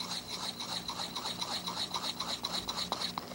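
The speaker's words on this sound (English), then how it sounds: "I could use the ordinary rubber ball with an ordinary stiff spatula and mix it in this fashion" Dental investment mixed by hand with a stiff spatula in a rubber bowl, a quick rhythmic scraping and rubbing that repeats steadily, faint and close.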